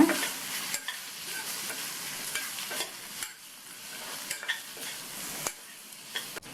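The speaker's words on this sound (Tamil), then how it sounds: "நல்லா ஒரு தடவை எல்லாம் ஒன்றா மிக்ஸ் ஆகிற மாதிரி கலந்து விட்டுருங்க." Carrot fry seasoned with salt and chilli powder is mixed in a pan: a bright sizzling hiss under repeated close spatula scrapes at a brisk, uneven rhythm, with no one talking.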